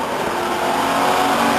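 A stock car's engine roars loud and steady at Stockton 99 Speedway, a continuous close racing drone with no pause.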